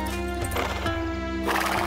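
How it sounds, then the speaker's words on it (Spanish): Horses whinny and neigh over a steady clip-clop of hooves, loud and close, with a busy background of other sound running throughout. "¡Unos caballos! ¡Ya están aquí!"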